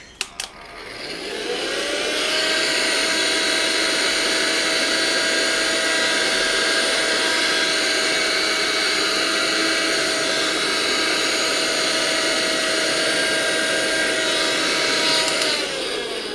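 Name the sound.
small vacuum cleaner with HEPA filter running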